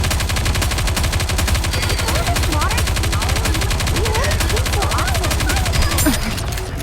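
Rapid, continuous automatic gunfire from NIKKE: Goddess of Victory hammers in a fast, even rhythm, loud and unbroken throughout, with a game voice speaking over the shooting.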